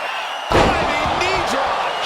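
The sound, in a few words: wrestler's diving knee drop slamming onto opponent in ring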